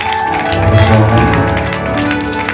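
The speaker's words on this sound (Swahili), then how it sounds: "Natamani kusikia makofi ya watu kwa uwepo wa dadi hapa mahali hapa." Clapping from a church congregation gathered in a house of worship, a dense, steady patter of many hands filling the room, with voices and music mixed underneath.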